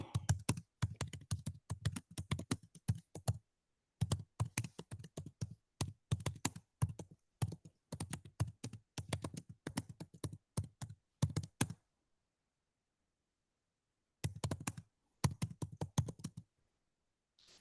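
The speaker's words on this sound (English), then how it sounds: "going to type it in" Quick clicks of typing on a computer keyboard come in close, quiet bursts of rapid keystrokes, separated by short pauses and one longer silence before a final flurry.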